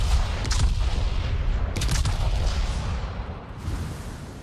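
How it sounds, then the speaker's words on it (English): Turret gunfire in a video game, loud booming cannon shots rolling into one another over continuous heavy battle rumble, with a couple of sharper blasts standing out. "Now I'm just going to take one turret at a time. Just shoot one and scatter them."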